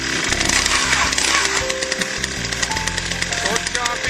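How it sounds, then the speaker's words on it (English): A 2500 series ice auger is started with short, choppy recoil pulls, its two-stroke engine catching into a loud, rough, rapid chatter that runs continuously and dominates close up. "you're going to want to do short, choppy pulling, almost like a chainsaw or something with a small recoil"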